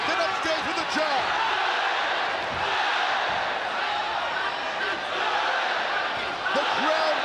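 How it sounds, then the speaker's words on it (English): A boxing crowd in Bangkok roars steadily through a WBC world title fight, a loud, dense wall of cheering that swells in waves as punches land, with excited shouts rising above the mass. "The crowd roaring every time Sisikat lands."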